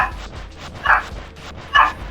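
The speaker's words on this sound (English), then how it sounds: "This dog getting real close to my door." A dog barks a few times close by, likely near a door, with two distinct bursts spaced about a second apart over steady low background rumble from a game.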